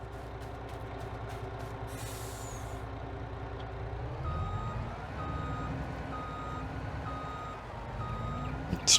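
A truck in the farming video game Adelshoven runs with a steady low engine drone and repeated reversing beeps, with a brief air-brake hiss near the start and the engine pitch shifting midway.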